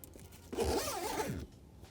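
A tent window zipper on a James Baroud Odyssey rooftop tent pulled open in one smooth, close-up stroke lasting about a second, surrounded by quiet.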